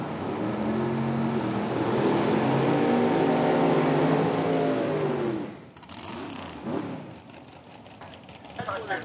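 A 2000 Mustang drag car with a single-stage big block launches with a loud, harmonic engine roar that holds steady for about five seconds, then cuts away into quieter mixed noise at a nitrous drag race.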